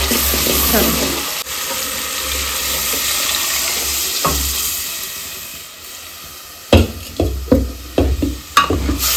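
Moong beans are tipped into a hot pan and stirred, giving a steady sizzle followed by a run of sharp clanks and scrapes of a spoon against the pan.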